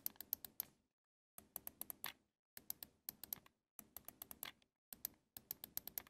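Sharp plastic clicks from the digital tap triggers and bumpers of a Battle Beaver Customs Quick Pick PS4 Pro controller come in rapid bursts of several taps, each burst separated by brief silences, close up and crisp.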